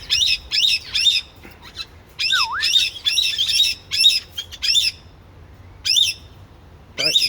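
Pet birds in an outdoor aviary squawk and chirp loudly in repeated bursts close by, with short pauses between calls over a low background hum.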